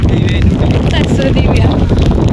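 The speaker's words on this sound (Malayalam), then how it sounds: "നല്ല കാറ്റും മഴയാണ്." Strong wind buffets the microphone in a steady roar on a rocky hilltop by a temple, with rain falling throughout and no clear gaps in the noise.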